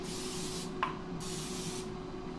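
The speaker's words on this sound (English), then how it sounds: "we're going to spray it with a cooking spray" Two short hissing bursts of aerosol cooking spray, close by, with a faint tap between them.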